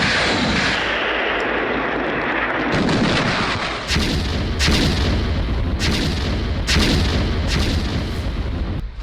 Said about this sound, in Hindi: एक के बाद एक रॉकेट जो है मारियुपोल में लॉन्च किए गए